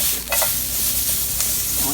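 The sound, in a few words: peppers sizzling in oiled cast iron pan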